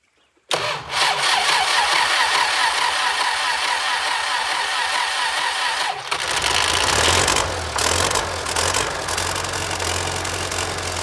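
An MTZ 80 tractor starts after standing idle for a long time. After brief silence the starter cranks loudly, the diesel catches and settles into a steady, close idle.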